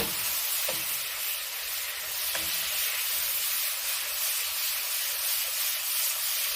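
Lots of garlic sizzling in a pan over high heat, a steady hissing fry at moderate level with a couple of faint clicks from tossing, no voices over it.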